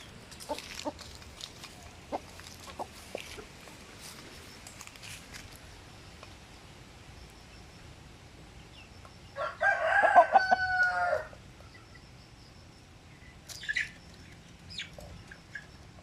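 Native chickens cluck and scratch softly at close range, then a rooster crows loudly for a couple of seconds, followed by more scattered clucks.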